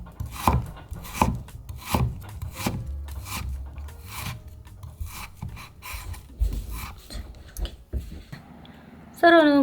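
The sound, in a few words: knife slicing food into thick strips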